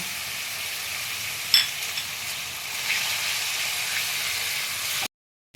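Ground turmeric, Kashmiri red chilli powder and dry-roasted kasuri methi sauté in a pan with a soft, steady sizzle and a brief clink near the start, before the sound cuts out abruptly.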